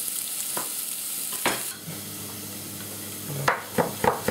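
Onion sizzles steadily in a hot pan for tomato sauce while a utensil stirs and scrapes, with a series of sharp knocks near the end; no voices.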